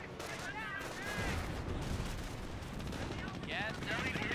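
Gunfire rattles in the World War II strategy game Company of Heroes: rapid machine-gun bursts and scattered shots crackle continuously beneath a commentator's voice.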